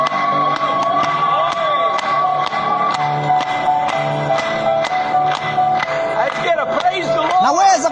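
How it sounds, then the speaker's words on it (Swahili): A church congregation claps and cheers in a dense, continuous wash over amplified music or tones, with scattered whoops and shouts rising toward the end. "Hebu tumpigie makofi tena."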